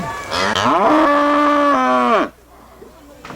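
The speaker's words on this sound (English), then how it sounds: "Cows are arriving, sheep are arriving." A single cow arriving at a country fair gives one long, loud, close moo that swells and then drops off abruptly, followed by quieter background noise.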